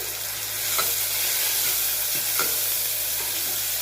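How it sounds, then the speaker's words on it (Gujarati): Chopped tomato added to sautéed onions in a pan for mixed dal, a loud, continuous frying sizzle close by with a few soft scraping stirs, and no voices. "હવે આપણે તેની અંદર ટામેટું એડ કરી દઈશું"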